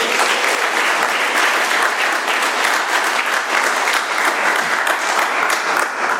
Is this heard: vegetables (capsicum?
no